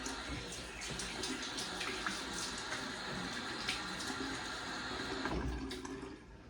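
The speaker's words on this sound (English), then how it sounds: "I'm going to wet the face and get started." Tap water runs steadily into a bathroom sink while the face is wetted before a shave, a close, continuous splashing rush with small spattering changes throughout.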